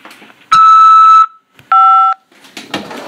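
Two loud, clean electronic tones from a phone system ahead of accepting a prison call: a long high beep, a short pause, then a shorter lower beep, with faint background noise around them.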